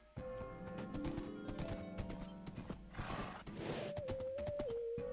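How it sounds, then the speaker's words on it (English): A horse in Minecraft, GregTech New Horizons modpack, whinnies loudly and close alongside clip-clopping hooves, with a second drawn-out neigh near the end over background game music. "Horsey?"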